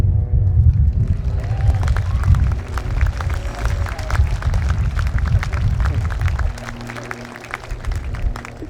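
Airshow crowd at RIAT 2019 responding to the Blades aerobatic team: a steady wash of applause and cheering with low rumble, continuous and fairly loud, thinning slightly near the end.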